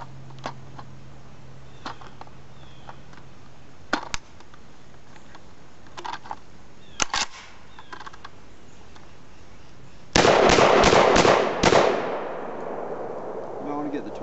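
A Saiga 12 gauge shotgun with a CSS reliability kit and a 20-round ProMag drum fires cheap Walmart ammo. Scattered handling clicks come first, then a rapid, loud burst of several close shots that fades into an echoing tail.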